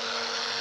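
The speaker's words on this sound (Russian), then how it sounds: "Вот сразу же она у нас работает." A tiny FixPrice mini grinder runs at speed with a loud, steady, high-pitched motor whine and an even hum all the way through.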